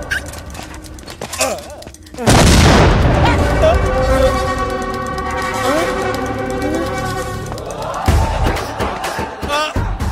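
A sudden loud bomb blast erupts in a Telugu movie action scene, followed by rumbling debris and a dense wash of music and shouting voices over the boom.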